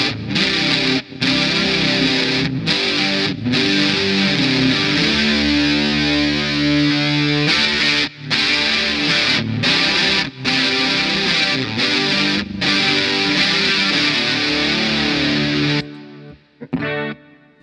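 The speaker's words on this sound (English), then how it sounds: "the fuzz is okay, but it sounds more like a distortion than a true fuzz" An electric guitar through a cheap Temu fuzz pedal plays thick, saturated chords and riffs, closer to distortion than true fuzz, with brief pauses between phrases, loud and close, ending in a short ringing tail.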